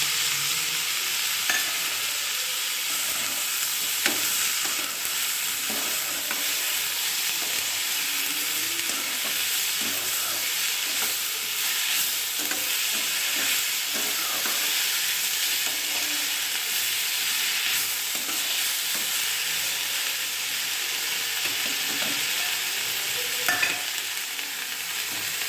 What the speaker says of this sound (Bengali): এইভাবে আমি ভাজবো, খুব ভালো করে ভাজবো না।